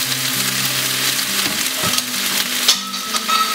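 Honey garlic chicken sauce with rice wine vinegar sizzles and bubbles as it is stirred in a hot pan, with steady frying crackle and occasional scraping strokes close by.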